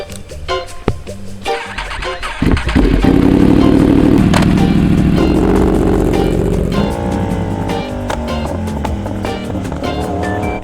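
A motorcycle fitted with an aftermarket rear shock pulls away and rides on, its engine rising to a loud, steady roar mixed with wind and road clatter.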